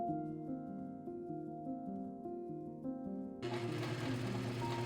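Sewing machine hemming a T-shirt from the inside, a steady whirring hum that picks up into a louder, busier run near the end, with no voices.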